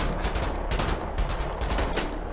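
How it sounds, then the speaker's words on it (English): Rapid pistol gunfire in the video game Wolfenstein, a dense, continuous burst of loud shots with no pauses between them. "I killed you with a pistol"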